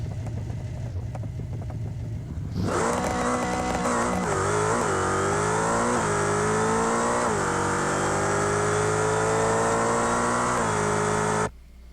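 A growling 2020 Land Rover Defender engine in a video game revs hard after a quiet start, its pitch climbing and dipping through several throttle blips, loud and close, with no talking.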